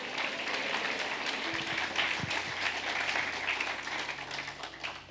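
A church congregation claps together during a sermon, a dense, sustained wash of applause that stays at an even level throughout.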